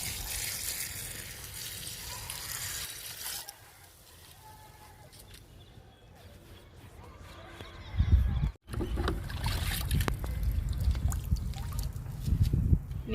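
Liquid fertilizer poured from a container onto the soil of guava and lemon plants, a splashing, trickling pour that starts loud, fades to quiet, then returns strongly near the end, outdoors and close.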